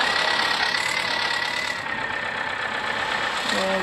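Simulated New Holland 3232 tractor engine running in a video game, a steady loud rumbling idle drone that holds throughout, with a brief tonal blip near the end.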